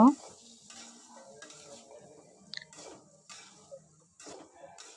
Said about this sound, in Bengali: এখন এর মধ্যে আমি বরবটি আলুটা দিয়ে দিব